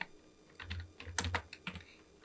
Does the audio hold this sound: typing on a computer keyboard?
yes